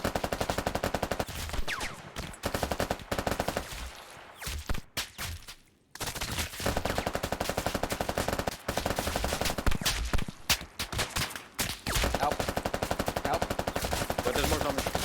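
Rifle fire in a zombie shooter video game comes as long, dense automatic bursts, loud and nearly continuous, broken by a few brief gaps.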